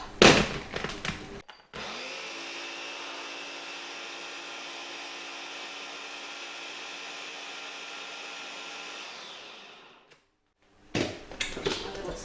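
Chocolate cake batter churned by an electric mixer, a steady loud motor whir running about seven seconds and spinning down to silence, with a moment of handling noise just before and after.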